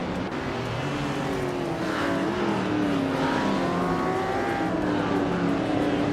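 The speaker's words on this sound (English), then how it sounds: "Beats with Kev is driving a 1975 Fiat X19 Dallara." A 1975 Fiat X19 Dallara race car lapping Lime Rock, its engine droning steadily with rising and falling pitch as it accelerates and shifts, alongside other cars in a continuous loud roar.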